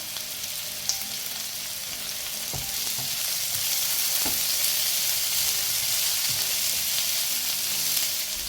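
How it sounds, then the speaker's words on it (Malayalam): Onions fry over a high flame in a pan for Kerala chammanthi chutney, a continuous close hiss and crackle that swells slightly midway, with a few soft clicks of the stirring spoon against the pan. "അടുപ്പിൻ്റെ ഫ്ലെയിം കൂട്ടിക്കൊടുത്ത് ഫ്രൈ ചെയ്യാം എങ്കിൽ വേഗമായി കിട്ടും വളരെ ശ്രദ്ധിച്ച് ഇളക്കി കൊടുക്കണമെന്ന് മാത്രം"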